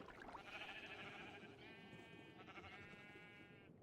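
Sheep on a Minecraft server sheep farm bleat in a steady, overlapping chorus of game-sound baas, with several wavering cries in quick succession and no pause between them.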